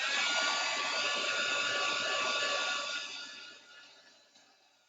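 A heat gun blows hot air over a preserved fern wreath with a loud, steady rushing whoosh that holds for a few seconds and then tapers off as the tool is switched off.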